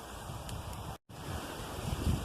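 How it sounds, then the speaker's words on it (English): Strong wind blows through a tropical garden full of palm trees in Curaçao as a steady, close rushing roar with buffeting against the microphone, interrupted by one brief dropout. "I hope there's not too much wind, because the wind is strong these days."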